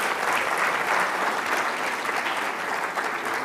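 Applause from a conference audience at a cardiology meeting, a dense, sustained roll of many hands clapping at moderate volume, fading slightly toward the end.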